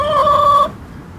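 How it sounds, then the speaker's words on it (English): A single loud, sustained squawk from a hen after laying an egg, close and harmonic, cutting off abruptly into quiet. "They make noise every time they lay an egg."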